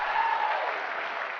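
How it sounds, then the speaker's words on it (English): Crowd at a Nintendo E3 2004 press presentation cheering and applauding loudly, a dense continuous roar of clapping and shouts that holds steady throughout the short stretch. "you can hear the crowd like just like going crazy right now"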